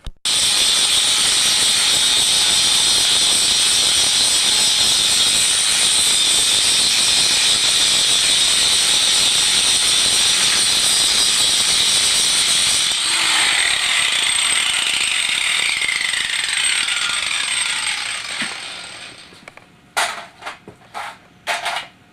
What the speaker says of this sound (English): I'm grinding away the excess pieces of the steel spokes, and these were steel spokes and a steel wheel